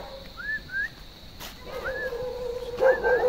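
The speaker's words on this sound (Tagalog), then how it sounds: "Ayan, may aso." A dog out in the rural countryside near a house gives a few short rising yips and whines, spaced in three brief bursts over a faint background, fairly distant and moderately quiet.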